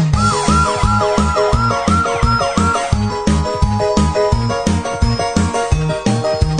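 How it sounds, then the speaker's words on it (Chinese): Fire engine siren wailing in a rapid rising-and-falling cycle, loud and close, with a rhythmic pulsing beat running steadily beneath it throughout. "拉响警报，哇呜哇呜"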